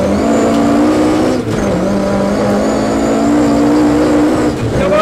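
Rally car at a stage start in Finland, engine droning loud and close as it pulls away and drives on, revs shifting with gear changes, no talk.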